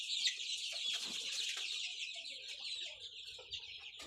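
Chickens clucking steadily at close range, a busy flock of young birds kept in a farm rearing pen, with overlapping soft clucks and chirps throughout and no talk.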